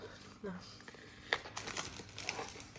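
A cat plays with a plastic bag, making short, soft crinkles and rustles in brief bursts with sharper crackles, close by and fairly quiet.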